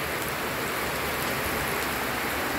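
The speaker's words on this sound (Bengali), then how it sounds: "চলো গো চলো, বৃষ্টিতে ভিজে আসি।" Steady, dense rain pouring down on surfaces nearby, a continuous loud hiss with scattered drop patters, unbroken for the whole stretch.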